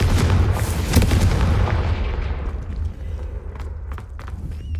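Confringo fire spells exploding in the Hogwarts Legacy video game, a run of loud booming blasts with thuddy low impacts that thin out and fade into quieter scattered crackles.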